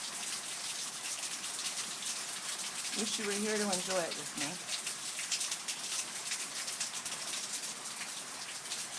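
Steady rain pours down outdoors with a constant hiss of drops on surfaces, and a voice speaks softly over it.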